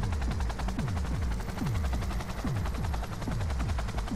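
Helicopter with gunfire in the Cyberpunk 2077 video game: loud, steady rotor thump runs throughout under rapid, repeated bursts of shots, dense and continuous for the whole stretch.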